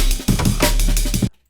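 A dense neurofunk-style synth preset from a Serum pack, thick with mid-range growl, plays as a loud, busy, rhythmically pulsing bass phrase and then cuts off abruptly.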